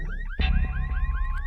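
A car alarm blares in a repeating rising electronic warble, loud and close, with a low thump partway through, used as a sound effect in a horror story.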